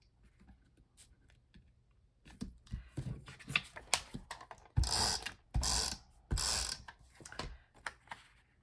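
A handheld 3.5 inch circle punch cuts through paper, giving a few close, sharp mechanical clicks and crunches followed by several louder bursts of cutting and ratcheting.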